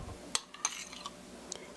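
Utensils mixing an onion puff dipping sauce, a few light clinks and scrapes of metal against a dish, close but quiet, spaced irregularly with no talking.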